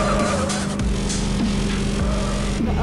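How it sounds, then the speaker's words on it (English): A car in a video game races past with a continuous loud engine drone and faint tire squeal, close and steady throughout. "The other car sped past it"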